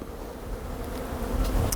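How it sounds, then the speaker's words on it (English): Honey bees buzzing around a honey super placed on a hive, a soft steady hum over low rumble, growing slightly louder toward the end. "you can see some bees are already starting to get on it"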